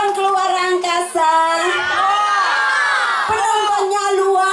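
A loud crowd at a Balinese temple festival cheers and shouts, with whoops and high voices rising over a steady roar of noise.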